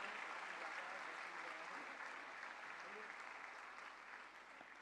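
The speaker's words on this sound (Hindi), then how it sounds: "आपकी तालियां लगातार बजती रहें" Sustained, even applause fills a hall in Parliament House at a ceremony marking Dr. Syama Prasad Mukherjee's 125th birth anniversary, a dense wash of many hands clapping at a distance that fades slightly toward the end.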